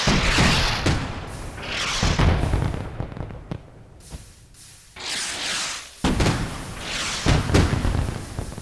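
Fireworks rockets bursting at a Fourth of July show, a series of loud booming explosions roughly every second or two with crackling tails, some sharp and close, others duller, with brief lulls between bursts.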